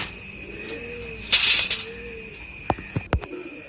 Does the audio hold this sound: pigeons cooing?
yes